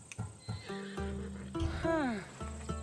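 A horse in the Assassin's Creed Odyssey video game gives a rising, shaky whinny, with a low thud and hoof clops under it and a voice speaking nearby.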